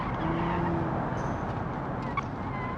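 Simulated car engine in the game Automation, driven along canyon roads, hums steadily and loudly throughout with a faint tire squeal layered over the continuous drone.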